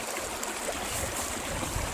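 Water rushes steadily through a sluice gate, a dense continuous flow heard close and alone with no voices.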